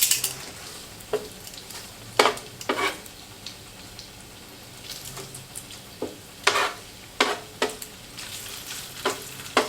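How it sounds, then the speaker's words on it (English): Bacon fries in a pan for breakfast fried rice: a constant soft sizzle broken by sharp, irregular clatters and scrapes as it is stirred, with no talking. "So we're just going to put the rest of the bacon in this pan, as much as we can fit, and let it cook until it's crispy."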